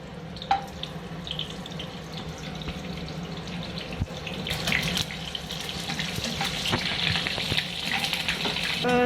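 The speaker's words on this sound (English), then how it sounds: "So now we are going to fry our onion cubes." Onion cubes hit a hot pan and fry with a steady, close sizzle, a crackling hiss that thickens after the pour and keeps popping irregularly throughout.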